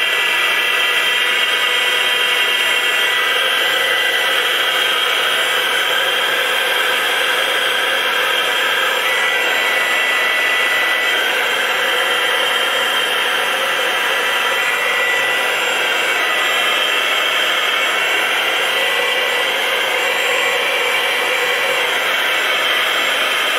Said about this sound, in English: so we'll use the heat gun now